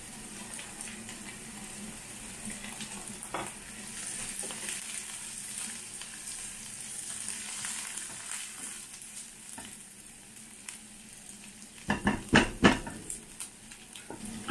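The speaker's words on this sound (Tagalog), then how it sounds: "Igisa ang hipon." Shrimp sauté in a frying pan with a steady, moderate sizzle throughout, broken near the end by a few sharp clanks of a utensil against the pan.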